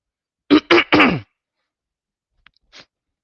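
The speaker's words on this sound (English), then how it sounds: "You heard me clearing my throat" A short burst of throat clearing, three rough grunting pulses in quick succession, followed by silence and a couple of faint small noises.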